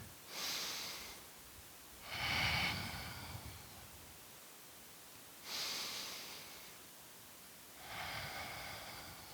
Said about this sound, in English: One more big full breath together